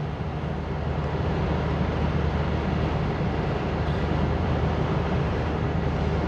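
Inside a moving 1990 Peugeot with a 1.6 engine and 5-speed gearbox, a constant broadband roar of wind and road noise with a low engine drone underneath, steady and unbroken throughout.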